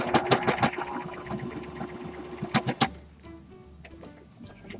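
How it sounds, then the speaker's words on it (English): Sewing machine tacking down thick fleece on a DIY owl, running in rapid bursts of close, rhythmic stitching that stop abruptly, followed by a quieter stretch of faint handling noise. "Sew it down right here with the sewing machine"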